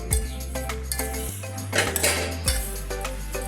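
Dried bananas mixed into a pickle spice blend in a metal vessel, with a spoon knocking and scraping in irregular clinks close by over a loud low hum.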